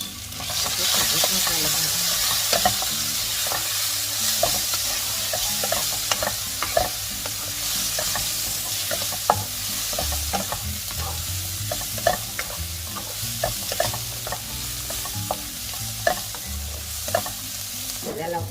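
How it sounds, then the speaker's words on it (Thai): Pork stir-frying in a pan with chili and garlic added as the fat renders, a steady loud sizzle with repeated scraping and clicking of a utensil, no talk. "พอมันหมูเริ่มออกนะคะเราก็จะใส่ พริก แล้วก็กระเทียมหมูหอมลงไปนะคะ"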